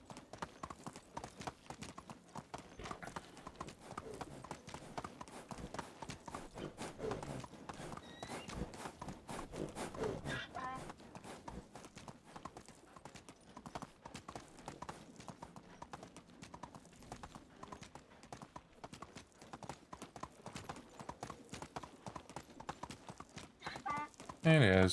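Steady clip-clop of a donkey's hooves as it is ridden along a path in Medieval Dynasty, a continuous trotting rhythm with someone talking over it throughout.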